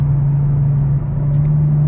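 A car engine holds a steady moderate-throttle drone with a strong low hum, heard from inside the cabin with the windows down, loud and continuous with no talk.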